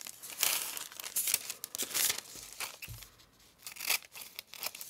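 Rough paper ends being trimmed for a junk journal, heard as close, steady crinkling and rustling of paper with a few soft tearing and snipping sounds.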